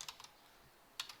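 Keystrokes on a computer keyboard while writing Kotlin code, a short burst of clicks at the start, a pause, then another quick cluster of taps, faint and close with no talking.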